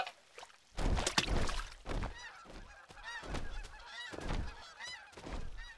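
A cartoon goose honks repeatedly in loud, close bursts with an irregular rhythm, alone with no talking.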